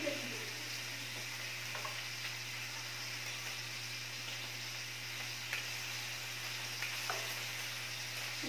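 Garlic sizzles in a pan during an at-home samgyupsal meal of beef and pork, a steady, quiet frying hiss with faint clinks of stirring and no talk.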